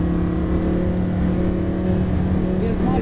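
A car's engine holds a steady, loud drone that builds slightly as it accelerates through a lap of a driving course, continuous and close throughout.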